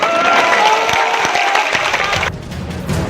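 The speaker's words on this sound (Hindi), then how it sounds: "तालियों की गड़गड़ाहट ने साफ कर दिया है" Dense applause from a crowd, loud and sustained, thinning toward the end with a few scattered claps and low rumble.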